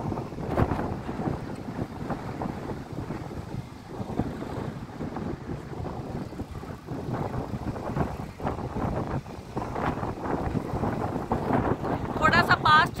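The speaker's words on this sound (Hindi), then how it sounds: "बहुत तेज हवा चल रही है।" Strong wind gusts across Chandrabhaga beach and buffets the microphone with a continuous, rumbling roar, and a voice is faintly present.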